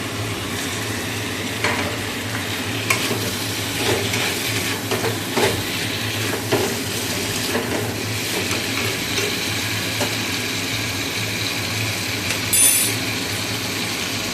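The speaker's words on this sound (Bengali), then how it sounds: "তার আগে পটল ভাজাগুলো দিয়ে দিই" Fried pointed gourd pieces tumble into a pan of spiced gravy, followed by steady stirring and soft sizzling, with scattered clinks of a utensil against the pan throughout.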